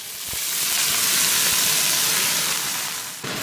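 Rinsed Chinese chives hitting hot oil in a wok over high heat, a loud steady sizzle that swells quickly and holds, with faint clinks beneath before it fades at the end.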